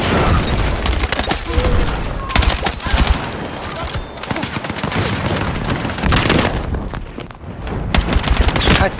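Gunfire and explosions in the Battlefield 6 Beta video game, loud and dense with rapid bursts and heavy booms throughout, a tank battle among the sounds.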